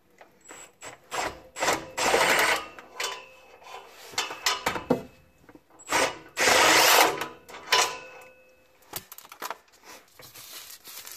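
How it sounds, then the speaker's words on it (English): A ratchet wrench loosens the last bolt on a 4L60E transmission pan, giving close, loud bursts of rapid clicking separated by short pauses, with a few metallic clinks between them. "All right, I'm removing the last bolt here."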